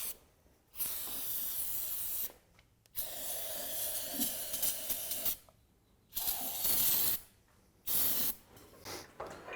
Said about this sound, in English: What are you using to spray that out with, Dad? I'm using Summit brake cleaner.